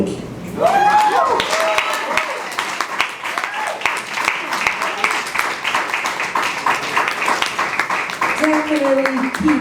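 Audience applause at a spoken word poetry showcase, steady clapping for about ten seconds with some cheers and whoops, and a voice speaking near the end.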